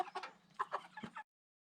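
Chickens cluck in a pen as they are loaded from a truck, several short, close clucks in quick succession that cut off abruptly.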